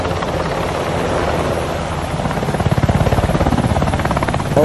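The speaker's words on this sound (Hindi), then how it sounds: "ओ तो चलो अभी अपने पास ये बचा है हेलीकॉप्टर।" A toy helicopter's rotor whirs loud and close, a buzzy drone that settles into a fast, pulsing chop partway through. No one talks over it.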